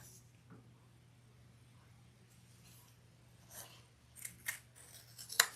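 Scissors snip through a leather gusset while it is trimmed back for a modified leather project, the quiet cuts coming sparse at first and then as a few sharper, closer snips toward the end.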